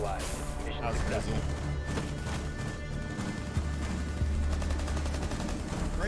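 Video game gunshots ring out in quick, repeated bursts over a busy backdrop of music and game noise, with people talking throughout.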